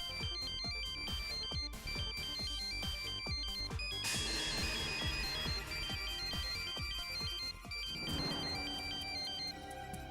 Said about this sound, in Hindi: अमन का नंबर इतने दिनों से मेरे मोबाइल में फीड है, आज तक तो उसने फोन नहीं किया